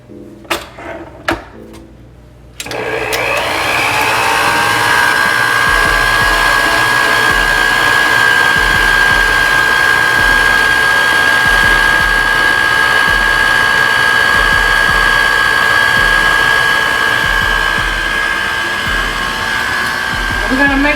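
Electric mixer beating eggs into creamy batter, starting with a few clicks and knocks before the motor kicks in to a loud, steady whine that runs unbroken and close by.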